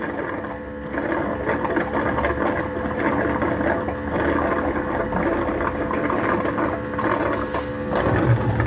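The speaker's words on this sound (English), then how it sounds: "It's just going to put water down there and spin the mop pads in the water." An iRobot Roomba Plus Combo 405 AutoWash dock spins its mop pads in water, a steady churning mechanical whir with sloshing and motor hum, continuous and close throughout.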